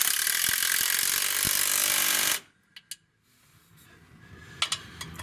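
A ratchet snugs and torques bolts during a car clutch replacement: a dense run of loud ratcheting lasting about two seconds, then a brief near-silence, a couple of sharp clicks, and a few more light clicks over a low rumble.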